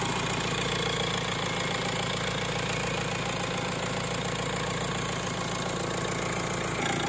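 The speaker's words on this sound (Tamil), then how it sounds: "ஃப்ரெண்ட்ஸ் பாருங்க, வண்டி ஸ்டார்ட் பண்ணியாச்சு." A used car engine idles just after being started, a steady low rumbling drone with a faint ticking knock, close and unchanging throughout with no voices.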